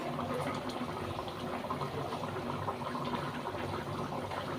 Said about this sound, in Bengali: এই দেখুন খুব ভালোভাবে ঝোলটা কিন্তু ফুটে উঠেছে।